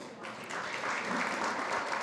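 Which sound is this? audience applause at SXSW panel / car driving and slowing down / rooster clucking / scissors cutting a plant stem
audience applause at SXSW panel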